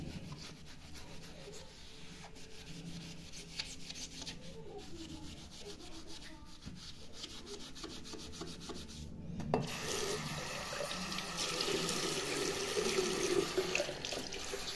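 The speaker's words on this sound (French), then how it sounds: "Ça se rince très bien." Running water rinses pink multi-purpose cleaner off a surface, preceded by soft rubbing and scrubbing, then a louder steady tap flow that continues to the end, close and moderately quiet, with no talking.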